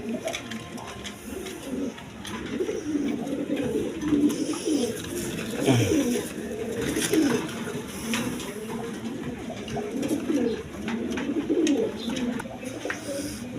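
A pair of Rajgolla pigeons and other pigeons coo steadily in low, rolling calls at a pigeon sale, several birds overlapping against a constant background hum.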